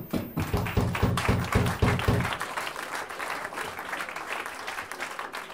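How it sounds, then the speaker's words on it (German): A concert crowd at a youth center show applauds, with a few close, heavy claps thumping rhythmically at first before the sound settles into a dense, lighter spread of many hands. "Applaus für Nina."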